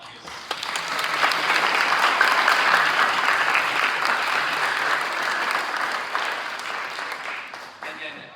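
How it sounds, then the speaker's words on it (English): Governing board meeting audience applauds parent volunteers, a steady, fairly full burst of clapping that rises quickly, holds for several seconds and then tapers off. "So one last applause for all of our parent volunteers."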